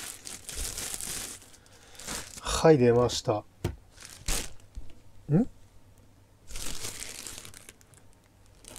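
Packing cushioning material crinkles and rustles while a retro arcade game console is unboxed, in short bursts near the start and again toward the end, with someone talking in Japanese in between.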